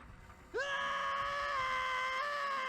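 A Link scream sound effect played as a stream alert during a Nancy Drew: Secret of the Old Clock speedrun: one sharp, loud rising yell that holds as a sustained, strained cry, heard alone.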